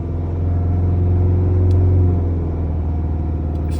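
A Mazda Skyactiv 2.2 diesel engine revs up to around 2,500 rpm and holds there, giving a steady, loud, low rumble that swells slightly and then settles. There is no talking.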